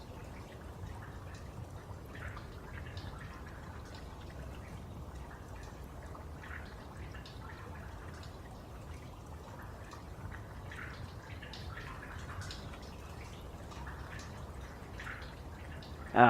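Water dripping in a dark cave in the game The Tower: faint, sparse drips landing irregularly over a quiet, continuous watery hum for about sixteen seconds, without speech.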